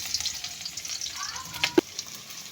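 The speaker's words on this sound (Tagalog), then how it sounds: "Na yung mantika, lagay na natin yung sibuyas." Chopped onion sizzles and fries in hot cooking oil for a Filipino monggo dinner, a steady close crackle with a few sharper pops toward the end and no talking.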